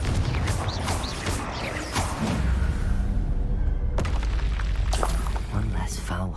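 A Confringo fire spell erupts in the Hogwarts Legacy video game, a deep booming blast over game music and effects, with a second sharp burst of crashing energy partway through.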